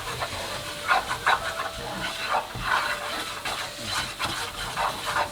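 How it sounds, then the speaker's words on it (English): Butter and flour being whisked together in a hot pan for a creamy garlic sauce, with a soft steady sizzle and scraping, stirring strokes close by, no talking. "And then I'm gonna add 2 tablespoons of all-purpose flour. Just give it a nice whisk there."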